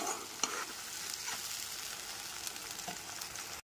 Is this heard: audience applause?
no